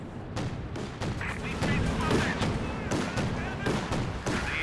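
White phosphorus artillery shelling in Company of Heroes 2 lands as a dense run of crackling impacts and dull thumps. The rumble holds steady and moderately loud with no clear pause, amid background battle noise.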